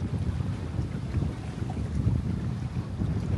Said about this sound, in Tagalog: So medyo mahangin ngayon.